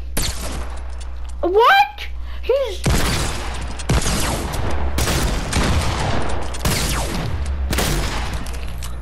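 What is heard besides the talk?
gunfire in a Fortnite Creative free-for-all video game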